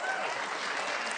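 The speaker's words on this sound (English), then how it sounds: "That's why they're clapping." Audience at a televised town hall on a government shutdown and ICE arrests bursts into steady, dense applause, the clapping close and continuous throughout.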